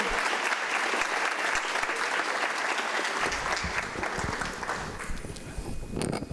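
A school class claps at a graduation ceremony, a dense sustained round of applause that stays loud throughout, with crowd noise and some voices mixed in toward the end.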